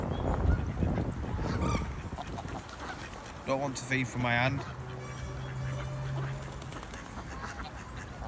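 Greylag geese honk a few times, the calls rising in a short burst in a park while someone talks close by, with some rustling underneath.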